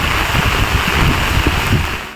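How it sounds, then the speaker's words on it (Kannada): Heavy rain falls at Kavaledurga fort, a steady broadband wash of water hiss close around the listener, constant and fairly loud throughout with no speech. "ಕವಲೇದುರ್ಗದಲ್ಲಿ ಭಾಳ ಮಳೆ ಇದೆ"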